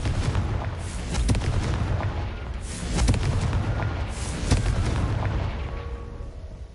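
Blasting-curse explosions in a Hogwarts Legacy battle in the dark forest go off as a rapid run of booming blasts and bursts, with several heavy hits spread over a few seconds, loud and close with no talk.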